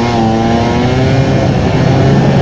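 A modified Honda Dio AF18 two-stroke scooter with a handmade water-cooled 54 mm cylinder and a full set of upgraded parts revs loud and close, a steady, buzzing drone held at a constant pitch with no talking.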